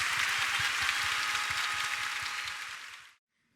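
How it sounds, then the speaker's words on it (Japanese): Concert hall crowd at LINE Cube Shibuya gives a big round of applause for award winner Ishikawa, a dense even wash of clapping that holds steady, then fades and cuts off abruptly. "改めて石川さんに大きな拍手をお願いします。"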